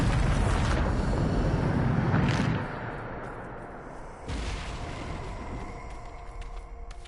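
Bombarda spell blasts in Hogwarts Legacy: a loud, deep booming explosion rolls out, fades into a rumbling tail, then a second heavy blast hits and decays.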